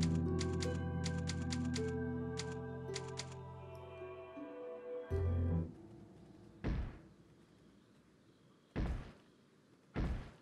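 Old typewriter keys clatter in quick rhythmic bursts in the video game Resident Evil 4 (2005), followed by a sustained chime and several heavy thuds spaced apart toward the end.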